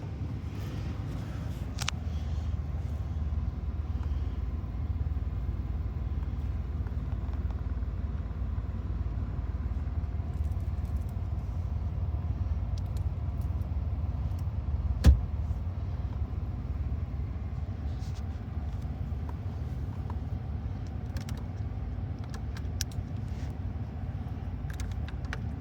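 An old Lincoln car's engine idles steadily in gear, a continuous low rumble sustained throughout with a brief sharp click midway and faint background noise.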